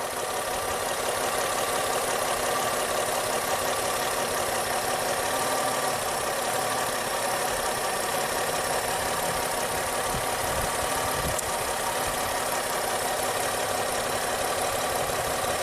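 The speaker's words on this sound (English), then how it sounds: "We have our misfire." A car engine with a cylinder misfire idles in a steady, loud drone with a faint uneven knock running through it. No voices are heard over it.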